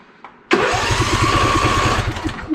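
A riding mower tractor engine cranks without catching, a loud, close, steady rhythmic starter churn lasting about two seconds before it cuts off.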